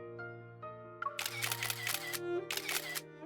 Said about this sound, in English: The crisp sound of a camera shutter follows us as we capture more moments together.